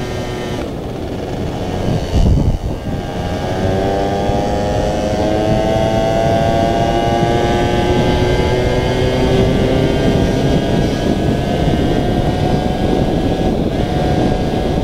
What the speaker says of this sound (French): mon booster il roule trop bien